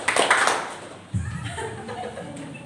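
A youth church congregation claps together in a loud, ragged burst that fades, followed by a softer, lower murmur of voices in the room.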